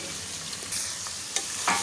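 Vegetables are stirred into a sizzling tempering in a cooker for a wheat rava tiffin, with a continuous close frying hiss and a few scraping strokes of the spoon.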